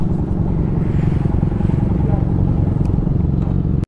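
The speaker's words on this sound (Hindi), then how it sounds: "सो आगे के एडवेंचर की खोज में हमारी बाइकें बढ़ रही हैं क्यूटो विलेज से" Royal Enfield Himalayan motorcycles ride along a mountain road in Spiti Valley, their engines thrumming loudly and continuously up close before cutting off abruptly.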